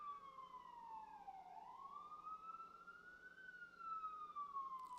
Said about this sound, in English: Hear another siren.